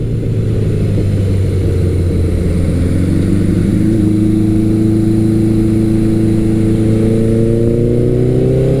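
A motorcycle engine, either a Kawasaki Eliminator 900 or a Suzuki GS1100L, drones loud and steady, then pulls out of a corner with its pitch climbing as it accelerates, heard alone with no talking.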